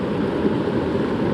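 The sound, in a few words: small creek flowing water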